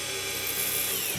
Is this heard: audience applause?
no